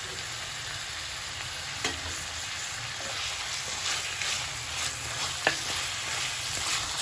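Mutton frying with coriander powder and other spices in a pan for Rajasthani laal maas, a continuous close sizzle with scattered scrapes and clacks of the spoon as it is stirred, no talking.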